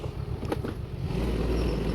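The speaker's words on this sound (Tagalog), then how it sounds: "pinapainit ko lang muna yung motor" A motorcycle engine idles steadily as it warms up before dawn, a continuous low rumble that grows slightly louder and steadier partway through, with no talk over it.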